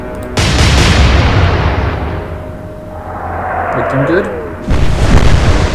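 Warship guns firing and shells bursting in Atlantic Fleet, with a heavy broadband boom at the start, a long rumbling decay, then another loud blast near the end, with a brief spoken remark.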